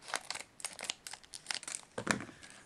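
A sealed plastic packet of air-drying modelling clay is cut open near the top, giving a run of close, crisp crinkling and snipping rustles with a sharper crunch near the end.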